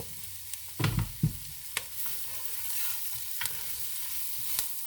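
Olive oil and herbs sizzle in a pan for homemade meatball and sausage sauce. A soft, steady frying hiss runs throughout, broken by a few close scraping stirs and clinks of a utensil.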